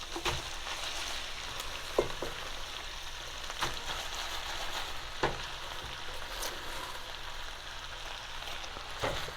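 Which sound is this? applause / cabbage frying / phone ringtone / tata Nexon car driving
cabbage frying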